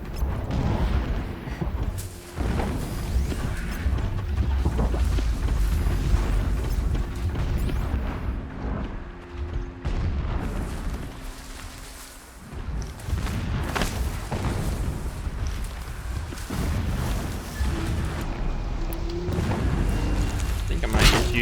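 Distant explosions in the video game Horizon Zero Dawn on PS5: deep booming thuds and a continuous low rumble roll on for about twenty seconds, with a brief lull in the middle, mixed into dense game ambience.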